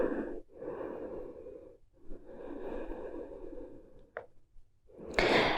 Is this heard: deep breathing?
yes